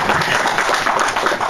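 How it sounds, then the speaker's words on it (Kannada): Loud, dense applause from an audience at a film audio release event, continuous clapping from many people filling the hall. "ಏನು ಚಪ್ಪಾಳೆ ಹೊಡೆದ್ರೆ ಏನು ತಪ್ಪಾಗುತ್ತೆ."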